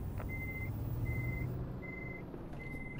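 A truck's reversing alarm in Euro Truck Simulator 2 gives four evenly spaced high beeps over a steady low diesel engine rumble, with no voices.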